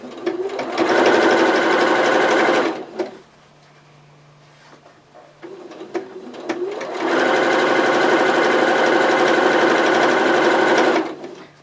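A sewing machine stitches a pillowcase baby dress in two long, loud, steady runs, with a quiet pause between them filled with faint handling noise.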